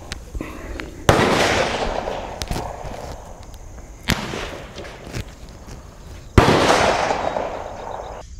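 Sharp, loud rifle shots from a Colt 901 crack out at a shooting range, three separate reports spaced a few seconds apart, each with a lingering echo, and faint handling noises between them.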